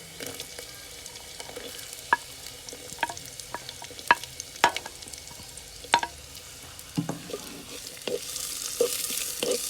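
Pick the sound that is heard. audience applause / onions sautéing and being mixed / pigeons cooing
onions sautéing and being mixed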